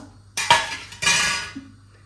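A metal kadhai is set down and handled in a home kitchen, two close clanking knocks of metal on metal followed by a fading ring and a faint final tap.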